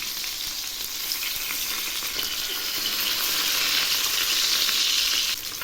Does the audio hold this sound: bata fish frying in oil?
yes